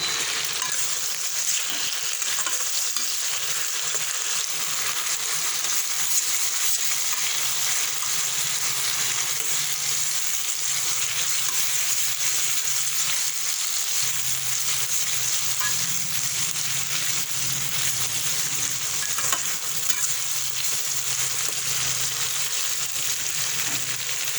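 A pan frying steadily while potol dorma with prawns is cooked, giving an even, dense sizzle that holds at a constant level throughout, with no talking.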